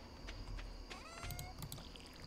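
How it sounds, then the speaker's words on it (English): A cat in the farming game Stardew Valley meows plaintively from a distance, a few faint drawn-out cries over a low, steady background ambience. "one of my cats is off in the distance, crying"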